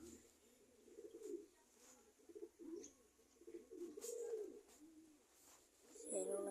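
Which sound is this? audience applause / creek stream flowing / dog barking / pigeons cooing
pigeons cooing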